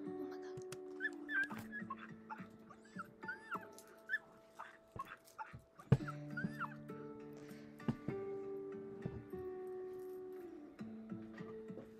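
Tiny wolf pups in the Lotus Moon pack of the game Blackfire's Quest whimper and yip in short, high, repeated cries over soft game music, fairly close.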